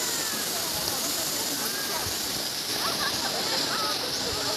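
Lyngksiar waterfall near Shillong in Meghalaya, a dense, constant roar of falling water filling the whole scene at steady loudness, with faint voices of a picnic group partly under it.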